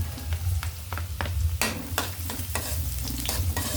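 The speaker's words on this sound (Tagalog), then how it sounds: "So, ilalagay na natin yung ating madaming bawang." Lots of garlic frying in hot oil in a pan: steady sizzling crackle with repeated stirring scrapes and clicks, close and fairly loud, no talking.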